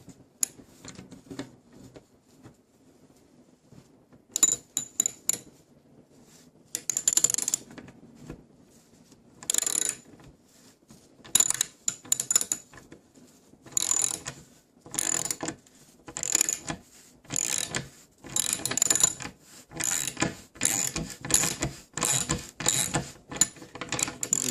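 Threads being cut into wood with a hand tap at a workbench, bursts of dry ratcheting and grinding rasps that start sparse and then come in quick repeated strokes, close and alone.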